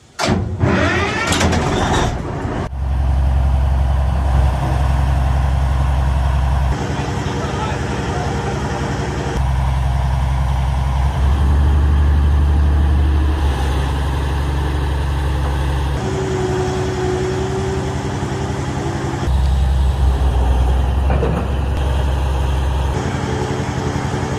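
Heavy diesel bulldozer engine running while clearing weeds at a jungle campsite, a loud, continuous low rumble that surges and idles in stretches, with brief clatter at the start.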